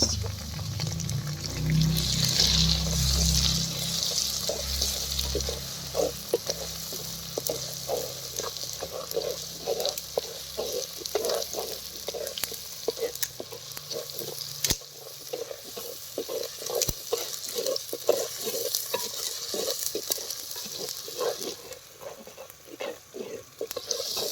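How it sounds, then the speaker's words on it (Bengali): Garlic and ginger paste sautéing in oil in a pot: continuous close sizzle with rhythmic scraping stirs, louder and fuller at first, then settling to a softer crackle with spoon clinks. "আদা রসুনগুলো আমার ভালো করে কষানো হয়ে গেছে"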